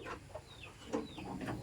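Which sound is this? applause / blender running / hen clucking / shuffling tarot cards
hen clucking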